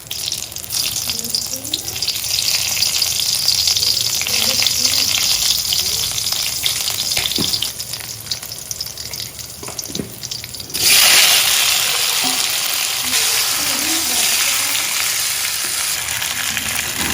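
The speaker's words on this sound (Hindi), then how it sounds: "उसके बाद इनको फ्राई करते हैं जीरा, हरी मिर्च और थोड़ा सा नमक डालकर" Chana dal fare fry in oil with cumin and green chili, a loud continuous sizzle that brightens sharply partway through as more goes into the pan, with light stirring.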